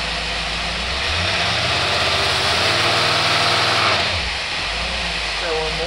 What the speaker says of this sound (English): It's hitting the rev limiter.